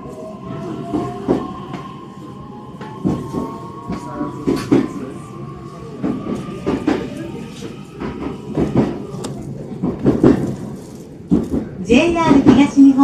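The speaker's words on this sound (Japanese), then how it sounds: "列車はね、木更津駅をね、発車するようです" A new JR East E131 series electric train pulls out of Kisarazu station, its motor whine rising steadily under rumbling and clattering wheels, with muffled voices in the carriage and an announcement-like tone at the end.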